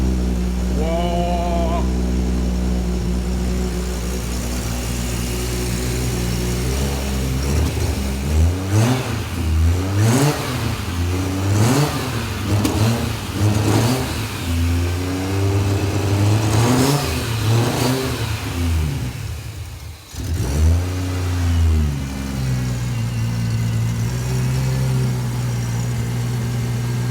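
Turbocharged car engine running after a fresh intercooler fabrication, fuel system and wiring build, revving repeatedly in rising and falling bursts over a steady droning idle, loud and close, with a brief dip near the end before settling back to idle.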